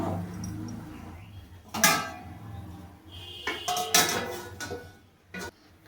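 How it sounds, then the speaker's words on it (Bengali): A lid goes onto a cooking pot of egg curry with potatoes and pointed gourd, with a few distinct metallic clanks and clatters at close range over quiet background, then a short final knock. "এবার ঢেকে দেব 5 মিনিটের জন্য"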